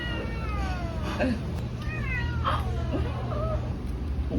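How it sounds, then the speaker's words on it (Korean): A cat meows several times, rising and falling cries over a steady low background hum, fairly close. "야옹 했어"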